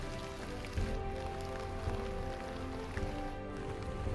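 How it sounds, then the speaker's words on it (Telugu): Heavy rain pours down at dawn on a Himalayan trek to Beaskund, a dense, steady hiss of drops drumming on nearby surfaces with occasional heavier splats, no voices over it. "నైట్ నుంచి వర్షం అయితే ఫుల్గా పడుతుంది."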